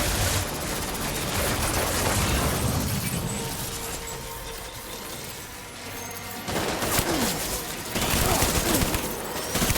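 Rapid bursts of gunfire and shattering impacts from a Death Stranding boss fight against a BT, dense and loud throughout, with excited voices shouting over the clatter.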